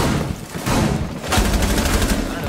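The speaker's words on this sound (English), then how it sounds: "Shotgun." Shotgun blasts ring out in a Rainbow Six Siege match, several sharp, loud booming shots in quick irregular succession, with faint background game noise.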